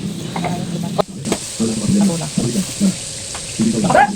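Aromatics and tomatoes are sautéed in a pan with a soft frying sizzle and the clink and scrape of stirring, under someone speaking in the foreground.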